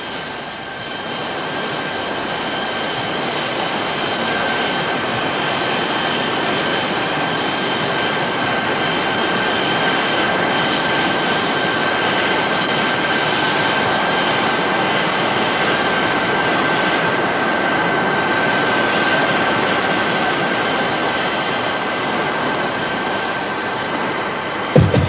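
Jet engines of a Nimrod aircraft during a brake check give a steady, loud, broadband roar with a sustained high whine, unchanging for about twenty-five seconds before a brief knock at the end.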